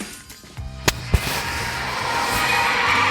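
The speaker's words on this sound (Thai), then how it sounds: "ระเบิดตูม" A Mobile Legends match ends with in-game explosions: a couple of sharp bangs followed by a swelling, bright burst of crackling noise that keeps building.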